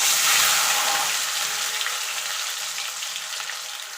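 Cleaned fish fat dropped into hot oil for a Bengali chorchori crackles in a loud, bright sizzle that gradually softens and settles into a steady fry, heard close with no talk.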